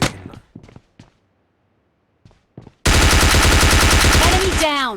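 Shotgun fire in the mobile battle-royale game PUBG Mobile Lite: loud, dense rapid bursts of gunfire take over the second half after brief speech, ending in ringing, falling tones.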